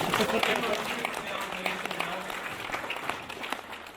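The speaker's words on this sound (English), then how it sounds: "All right, everybody, give Amber a round of applause." An audience at a LEGO keynote talk applauds a volunteer, a steady spread of clapping from a crowd heard at a moderate distance, with voices overlapping the applause throughout.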